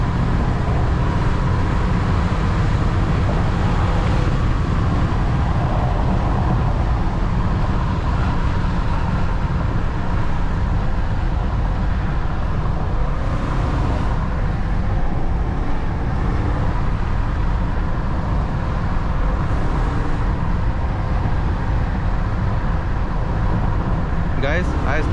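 A remapped 309 hp BMW X5 4.4i E53 SUV is driven hard on a curvy road, its engine and road noise a loud, constant roar from inside the cabin with no breaks, and talk is faint beneath it.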